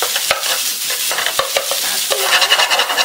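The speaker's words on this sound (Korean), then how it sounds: "충분히 불려주면서 밥을 볶아주세요" Shrimp fried rice being stir-fried with a spatula in a pan, with a steady close sizzle broken by repeated sharp scraping and tapping strokes, with no talk.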